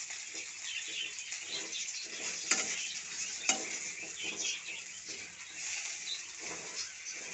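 Jackfruit pieces frying in hot oil in a pan, giving a steady, dense crackling sizzle throughout, with a couple of sharper pops along the way.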